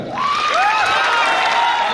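A large audience at a Sure Success Day event in Varanasi cheers and applauds to welcome the chief guest, with sustained crowd noise and rising whoops throughout.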